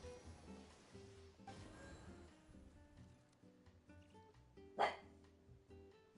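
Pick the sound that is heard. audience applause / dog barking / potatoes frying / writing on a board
dog barking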